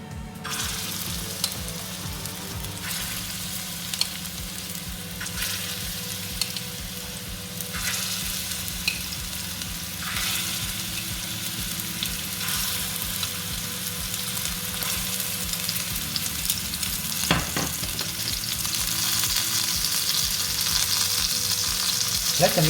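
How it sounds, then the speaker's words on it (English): Lamb meatballs frying in hot oil in a pan, a steady broadband sizzle with crackling bursts that builds slightly louder toward the end, no voices. "Once the oil is already hot, then we'll pan fry our meatballs."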